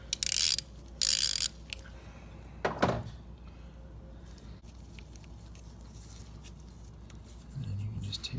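A ratchet wrench backing out a single 10mm bolt on a Chevy Equinox engine, heard as two bursts of rapid clicking at the start, then a brief scrape and quiet shop background, close-up.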